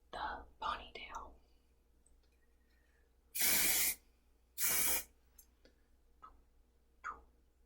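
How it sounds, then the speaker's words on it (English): Two loud bursts of hairspray aimed at a ponytail, each hissing for about half a second with a short pause between, close and crisp amid soft whispering. "you can spray your ponytail as well. Just put a little bit of hairspray on it"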